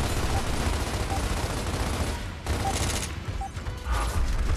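Shotgun fire in the video game Gears of War, played on hard mode, sounding as a dense, continuous barrage of gunfire amid heavy battle noise, with a brief lull midway before the shooting surges again.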